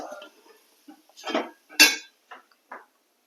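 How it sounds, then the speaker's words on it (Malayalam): Jackfruit stir-fry with turmeric being stirred in a pan, giving a few scattered scraping and clinking bursts of utensil against cookware, fairly close, with quiet gaps between them. "ചക്ക നല്ലതുപോലെ ഇളക്കി കൊടുക്കുക."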